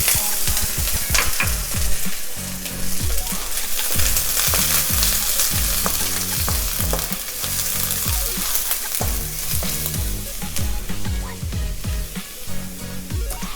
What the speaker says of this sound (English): We stir together our garlic and shallot.